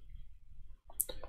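A computer mouse clicks through the Mailchimp audience and contacts pages, a few quick close taps with a brighter click near the end over a faint low background.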